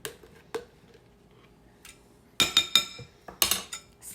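A metal spoon stirs mayonnaise into bologna salad in a bowl, clinking and scraping against the dish in several sharp, uneven taps close by, with no talking.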